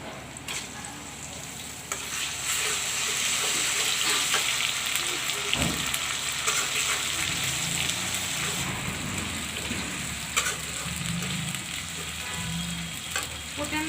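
Ginger garlic paste sizzling in a pan with browned onions, a steady loud frying hiss with crackling spatter throughout and a brief clunk of a utensil partway through.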